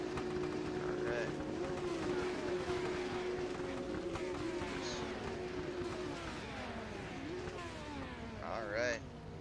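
Race car engines drone steadily behind a pace car in the iRacing sim, a continuous loud mechanical hum with shifting pitch throughout, while someone talks over it.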